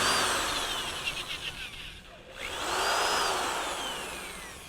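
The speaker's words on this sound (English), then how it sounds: "what I like to do is go ahead and drill it completely through" A close power drill whirs loudly while drilling through a boat, winds down to a brief pause, then revs back up and keeps spinning.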